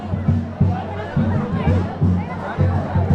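Devotees crowd together for Maa Kali darshan, a dense, steady murmur of many overlapping voices close by, with louder nearby speakers rising in rhythmic bursts above the babble.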